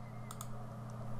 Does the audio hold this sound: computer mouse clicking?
yes